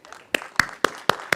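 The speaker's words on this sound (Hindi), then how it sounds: "जोरदार तालियां।" Sparse clapping from an audience at a business felicitation event in India, five distinct hand claps spaced evenly, close and thin rather than a full ovation.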